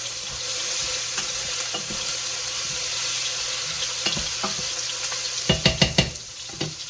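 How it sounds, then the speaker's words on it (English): Meatballs and onions searing in a pan for meatball subs, a steady background sizzle broken by a quick run of louder scraping stirs toward the end, close and without speech. "we're just going to get them moving, getting them nice and sear"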